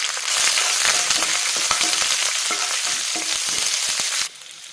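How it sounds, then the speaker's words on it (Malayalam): Curry leaves, green chilies, dried chilies and shallots frying in oil for pulisseri, a loud continuous crackling sizzle with light stirring taps, cutting off abruptly near the end. "കറിവേപ്പിലയും പച്ചമുളകും വറ്റൽമുളകും ചെറിയ ഉള്ളിയും ചേർത്ത് നന്നായിട്ട് മൂപ്പിക്കാം."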